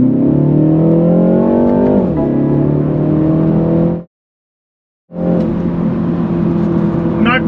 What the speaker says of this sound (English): Did you hear the exhaust growl?